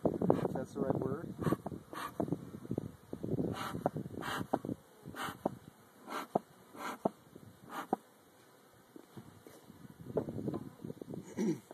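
Honey bees buzz steadily around an open hive during an inspection, a continuous close drone with people talking over it.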